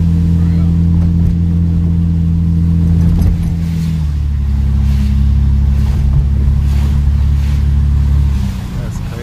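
A BMW E36 with a muffler delete runs loud and close, its throaty exhaust drone holding steady and then dropping in pitch partway through. No distinct pops stand out.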